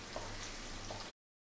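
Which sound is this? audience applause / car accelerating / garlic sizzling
garlic sizzling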